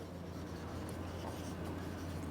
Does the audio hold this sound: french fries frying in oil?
no